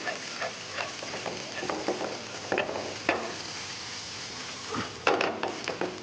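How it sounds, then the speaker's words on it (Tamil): Finely chopped ginger sautéing in a pan with vegetables, a low sizzle under intermittent spatula scrapes and knocks against the pan, fairly quiet and close. "நீங்கள் நல்ல பொடியாக நறுக்கி வச்சுருக்கிற இஞ்சி இதையும் இதோட போட்டு வதக்கிடுங்க"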